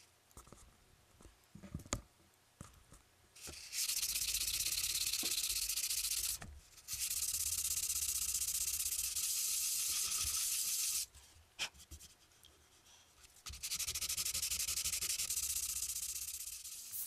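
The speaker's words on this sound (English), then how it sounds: "take 150 grit sandpaper, and if there's any little paint or residue above the hole, I sand it down flush" Sanding with 150 grit sandpaper on a wooden Miller table base, three long stretches of loud, hissing back-and-forth rubbing broken by quiet pauses with small knocks and handling clicks.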